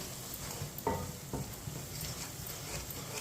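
Ground spices, red chilli and turmeric powder, sizzle softly in a pan over low heat for aloo palak, a quiet steady hiss broken by a couple of light scrapes from stirring.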